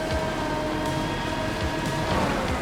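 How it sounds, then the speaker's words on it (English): Heavy rain on a racetrack in the F1 arcade video game Formula Legends, a steady, dense hiss of rainfall over a faint tonal hum, continuous and fairly loud for the whole stretch. "Heavy rain."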